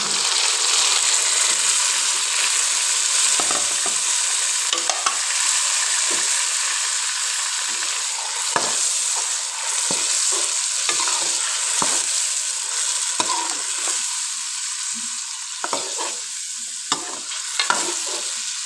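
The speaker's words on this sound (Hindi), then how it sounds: "अब हम इसमें जो हमने मैरिनेट किया था चिकन वो डाल देते हैं।" Marinated chicken drops into a pan of golden fried onions for a masala chicken dish, giving a steady close sizzle with stirring scrapes and small pops throughout, no talk.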